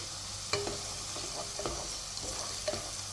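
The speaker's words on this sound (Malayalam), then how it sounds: "പിന്നെ ഗ്രീൻ ചില്ലി, പിന്നെ കുറച്ച് മസാലകൾ വെച്ചിട്ടുണ്ടല്ലോ, എല്ലാം കൂടി ഒന്ന് ചേർത്ത് കൊടുത്തിട്ട് വഴറ്റണം." Garlic, green chili and whole spices sautéing in a pan, with a soft, steady sizzle broken by a few light stirring clinks and scrapes, all fairly quiet and without talk.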